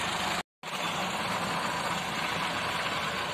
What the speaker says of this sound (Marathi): इथं रोटर तर चालू आहे